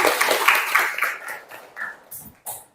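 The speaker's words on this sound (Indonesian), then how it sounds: "Oke, tepuk tangan semuanya." Students in a vocational high school classroom clap together, a brief burst of close, bright handclaps that thins out into a few scattered claps and trails off.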